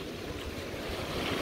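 Wind gusts by the sea on the Greek coast, a fairly faint broadband rush with buffeting against the microphone, steady throughout the short moment.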